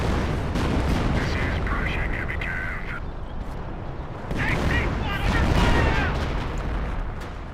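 Artillery fire in the WWII strategy game Company of Heroes, with heavy booms and scattered gunfire rolling through a dense, continuous battle din that swells louder midway, while a voice talks faintly underneath.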